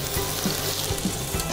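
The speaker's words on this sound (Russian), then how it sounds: "Пока наша тыква жарится" Pumpkin pieces fry in a little vegetable oil in a covered pan over maximum heat, giving a steady, even sizzle with faint crackles, moderately loud and uninterrupted.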